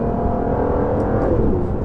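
An Aston Martin DBS engine drones loud and close from inside the car, its pitch shifting as it revs on a downshift into second gear.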